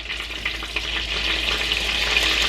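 Two tablespoons of butter sizzle and fry steadily in a pan as the base for a sauce, a dense continuous crackle close by with no talk over it.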